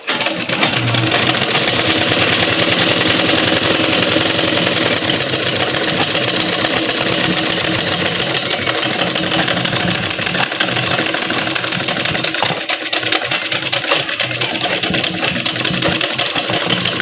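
A sewing machine runs a top stitch along a folded hem, a steady, close, continuous mechanical whir lasting the whole stretch with no pauses and no voices.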